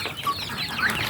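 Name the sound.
mother hen clucking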